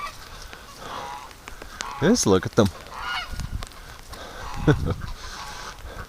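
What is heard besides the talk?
geese honking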